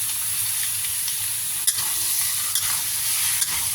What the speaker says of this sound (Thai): เจี่ยวจนกว่าน้ำมันหมูจะออกมานะคะ